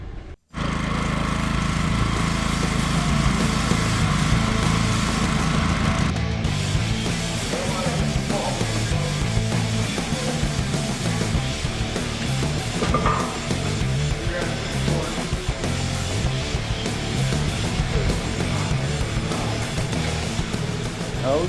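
An LS-swapped Chevrolet Suburban squarebody engine cranks and fires up abruptly, then settles into a loud, steady rumbling idle that runs on continuously close by, its tone shifting slightly after a few seconds.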